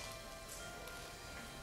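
Steady rain falls on a surface, a dense, even hiss with no breaks and no voices over the short stretch.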